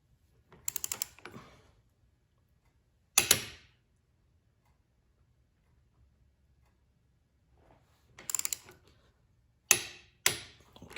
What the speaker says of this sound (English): we get the torque wrench out and tighten them to the 26 foot-pound spec.